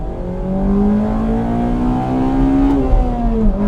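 A Honda Civic Type R FD2, a track-oriented car with VTEC, drives with a steady, loud engine drone whose pitch climbs and dips slightly as it pulls. The sound is heard close from inside the cabin, with no talking.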